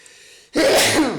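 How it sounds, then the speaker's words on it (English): A single sharp, loud human sneeze bursts in after a brief quiet lead-in, close to the listener, with a quick intake and explosive release that trails off. "I'm about to sneeze."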